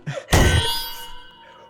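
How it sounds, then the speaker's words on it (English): A loud metallic clang rings out on a stage, like a microphone dropping and striking the floor, with a brief knock just before and a ringing tail that fades over about a second. "It's like a microphone falling or something."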